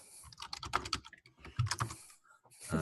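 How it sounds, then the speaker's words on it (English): Rapid, irregular clatter of keys being typed on a computer keyboard, close and fairly quiet, with short pauses between bursts and no talking. "Better start typing."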